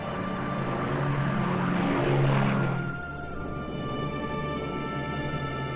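Propeller airliners of the Operation Magic Carpet airlift drone steadily, a loud continuous engine roar with a tonal hum that swells for a couple of seconds and then settles into a slightly quieter, even drone.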